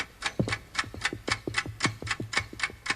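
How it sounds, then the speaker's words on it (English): A loud clock ticks close by in a regular tick-tock, about four beats a second, with sharp clicks alternating between slightly different tones and no talking. "Listen to that clock ticking."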